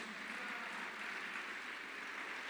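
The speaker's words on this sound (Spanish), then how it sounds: "Dele fuerte el aplauso al Señor." A church congregation applauds during a sermon, a steady, even rush of many hands clapping that stays constant and somewhat distant for the whole stretch, with no voices heard.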